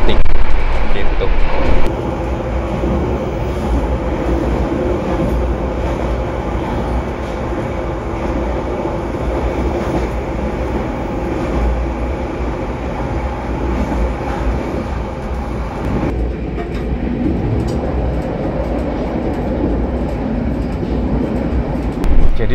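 Argo Dwipangga express train running at speed, heard from inside an executive carriage with a somewhat stiff, bouncy suspension: a loud, steady broadband rumble and rattle continuing throughout, shifting in tone partway through.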